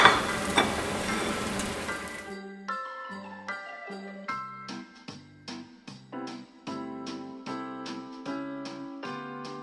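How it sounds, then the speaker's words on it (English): Browning onions and bread tossed together in a hot pan, a loud sizzle up front that drops away into a steady run of close, rhythmic stirring knocks and scrapes. "Now the onions are like browning up, you're going to add the bread and then give that a good mix."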